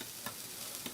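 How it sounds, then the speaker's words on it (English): Jersey Mike's hot subs sizzle on a grill, a steady close frying hiss with two brief louder flare-ups. "Look at that sizzle. Did you hear that? Relax, it's just the grill."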